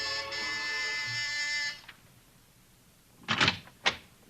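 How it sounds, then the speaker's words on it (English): A door buzzer at a house on Sutton Place gives one long, harsh electric buzz and then stops, followed by a couple of brief clicks and knocks like a door opening, part of a radio drama. "you've got your finger on the buzzer."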